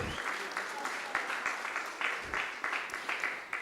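Audience applause at a Vice-Chancellor's Distinguished Awards ceremony, a moderately distant, continuous patter of many hands with some individual claps standing out, under faint talk.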